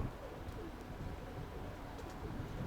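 Pigeons coo softly and steadily in the distance, a faint, low murmur with no speech.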